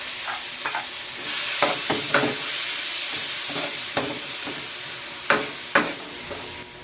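Ground meat frying with garlic and onion in a pan, a loud close sizzle broken by repeated sharp scraping stirs from a utensil, with no talking.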